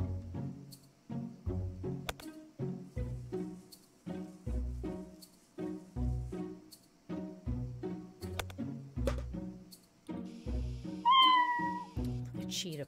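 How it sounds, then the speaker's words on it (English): Small kittens meowing close by, a rapid series of short, high mews in an irregular rhythm, with one louder, drawn-out cry near the end. "So there's our little kittens."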